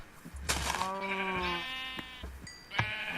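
Sheep bleating in the video game Minecraft, two or three drawn-out wavering bleats in a row with small thuds between, clear and close with no talk over them.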